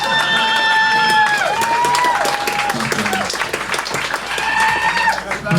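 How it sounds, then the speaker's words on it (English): A stand-up comedy show audience breaks into loud applause and cheering, dense clapping mixed with whoops over background music, swelling and then dipping slightly near the end. "Please clap. Please clap."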